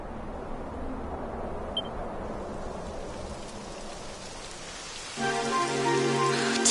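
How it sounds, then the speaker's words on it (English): Steady rain hissing in a video game on the way up toward a summit, a broad even wash of noise that grows a bit louder and denser near the end, with no talking. "It would have to go and start raining, wouldn't it?"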